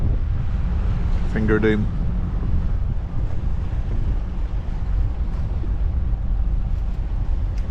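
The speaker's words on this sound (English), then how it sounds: "That wind is really picking up." Strong wind buffets the microphone at sea while spectating a powerboat race near Lyme Bay, a constant loud roar with waves, and someone speaks briefly over it.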